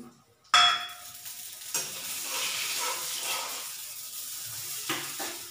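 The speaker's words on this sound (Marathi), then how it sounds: "तूप गरम झालं की लगेच थोडीशी खसखस भाजायची" Poppy seeds sizzle and crackle in hot ghee with a sudden loud onset, then keep up a steady frying hiss, broken by occasional stirring scrapes and clinks of a utensil against the pan, for a sweet modak filling.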